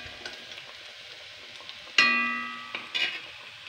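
Onions and curry leaves fry in hot oil for a coconut-based fish curry, giving a steady, fairly quiet sizzle with a sharper crackle and hiss as something drops into the pan, then a brief flare near the end.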